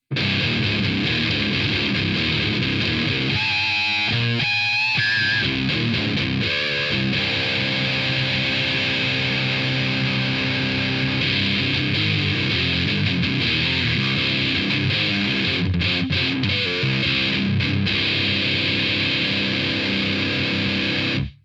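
Electric guitar through an MXR Custom Badass 78 Distortion pedal on a crunch setting plays sustained chords and riffs, loud and continuous with no talking.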